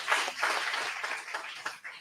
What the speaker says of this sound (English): everyone owes her a round of applause and a debt of gratitude